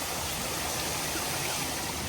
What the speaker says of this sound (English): this grotto waterfall that you keep going past throughout this experience is so beautiful and mesmerizing